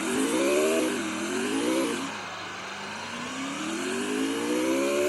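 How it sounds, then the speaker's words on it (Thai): A car engine drones steadily in mobile battle-royale gameplay on a Samsung Galaxy Tab A7 2020, its pitch rising and falling twice as it revs, then dipping and climbing slowly again, loud and continuous with no talking. "ขับรถได้ไหมเนี่ยขับรถได้ด้วย"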